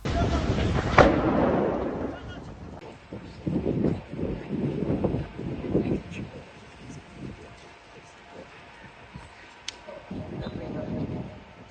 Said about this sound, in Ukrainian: Спочатку пролунали три вибухи.